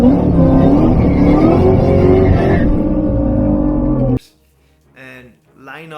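Terminator Cobra engine at a quarter-mile drag strip, loud and rising hard for about four seconds as it launches and accelerates, then cutting off abruptly to near quiet with brief voices afterward.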